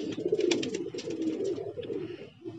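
Domestic pigeons coo continuously at close range in a breeder's loft, a steady low burbling chorus from several birds with no talk over it.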